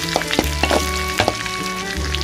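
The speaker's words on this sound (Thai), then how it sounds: "ก็เราก็จะคั่วพริกแห้งก่อนนะคะ" Dried chilies dry-roasting in a pan at a home breakfast cook, giving a steady close sizzle with scattered crackles and soft stirring scrapes, no talk over it.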